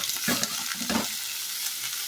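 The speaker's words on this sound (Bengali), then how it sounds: "এরপরে আমি জল ঝরিয়ে রাখা বাঁধাকপিটা দিয়ে দিই। দিয়ে আমি ভালো করে এটা" Drained cabbage hits a hot pan and is stirred, producing a burst of sizzling with two quick scraping stirs up close, then settling into a softer, steady frying hiss.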